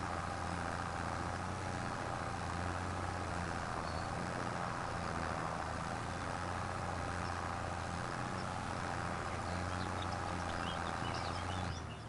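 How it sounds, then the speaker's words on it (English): A slow-moving tractor engine runs steadily at a constant idle-like drone with a dense low rumble throughout, and no speech is heard over it. "But this tractor is pretty slow."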